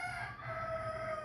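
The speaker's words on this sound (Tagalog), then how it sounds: "tumutugaok ang manok ko." A rooster crows in a steady held call, faint and slightly distant, over a soft background hum in a home setting.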